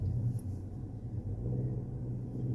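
Loud car with modified mufflers driving past, a low, throbbing exhaust rumble that holds steady through the whole moment with no talk.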